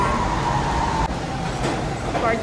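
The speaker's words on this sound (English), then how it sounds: "When my train is here." An arriving train rumbles close by with a steady, heavy mechanical drone and a faint squeal, filling the whole moment without pause.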